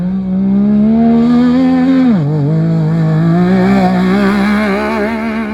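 A modified Yamaha YXZ side-by-side runs down a dirt field with a loud, sustained engine drone that rises, dips sharply as it shifts or passes, then climbs again, close and steady throughout.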